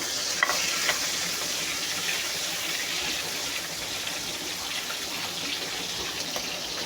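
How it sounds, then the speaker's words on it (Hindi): Chopped garlic sizzles steadily in a hot pan for egg fried rice, a continuous bright frying hiss with a few faint stirring clicks and no voices. "और अब इसमें मैं डालूँगी लहसुन। ये चॉप करके रखा हुआ था लहसुन"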